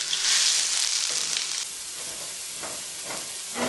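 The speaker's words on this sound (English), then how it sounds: "the moment we put in the ginger garlic, we reduce the heat to low, so that it doesn't burn" Ginger and garlic fry on low heat for chicken pasanda, a close sizzle that starts bright and loud, then softens to a quieter, continuous hiss with a few faint crackles, no voices.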